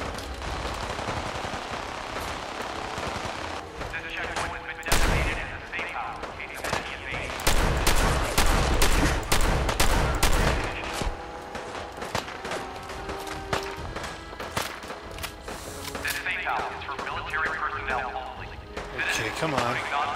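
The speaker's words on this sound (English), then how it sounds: "He's got like a machine gun here" Sustained machine gun fire in Fallout 4: Far Harbor, rattling bursts and heavy impacts crowding a chaotic firefight, loud and near throughout, with someone talking between volleys.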